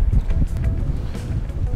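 Gusty outdoor wind buffets the microphone in a low, continuous rumble with uneven surges, heard outside during a meal of Swiss-style rösti potato pancakes.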